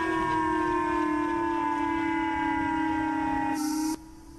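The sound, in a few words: civil defense sirens blaring during evacuation drill in Japan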